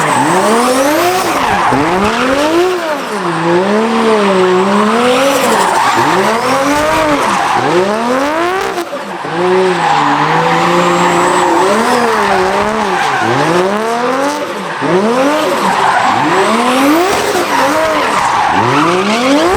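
A car drifting on a touge road, with its engine revving hard and tires squealing continuously. The loud, close pitch rises and falls in repeated sweeps as the car slides through bends.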